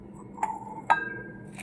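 Drinking glasses, including Coca-Cola glasses, clink twice as they are handled, two short bright chinks a half-second apart, close and fairly quiet against a faint room hum.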